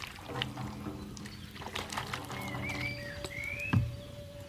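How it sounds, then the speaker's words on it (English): Water poured into a shamanic drum and swirled around inside it, a soft splashing and sloshing that comes and goes quietly with a few faint knocks against the frame. "And just have a little bit of water running around in there."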